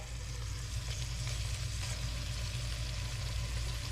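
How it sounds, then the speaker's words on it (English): Seasoned pork chops searing seasoned side down in a hot pan give a steady, even sizzle that holds at constant loudness throughout, with a low background hum beneath it and no talking. "So we're going to add the pork chops, seasoned side down."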